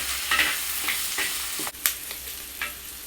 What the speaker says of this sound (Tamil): இதெல்லாம் சேர்ந்து எண்ணெயில் நல்லா சுருண்டு வணங்கிட்டுங்க